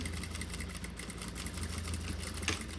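A sewing machine stitches a backstitch on a fabric document holder, a faint low steady motor hum running throughout the short stretch.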